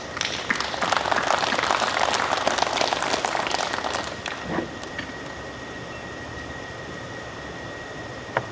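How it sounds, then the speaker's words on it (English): A small indoor audience applauds an 89-year-old trapper with dense, steady clapping for about four seconds before it thins out and stops, leaving a quiet room with a faint hum. "Y'all give them a round of applause."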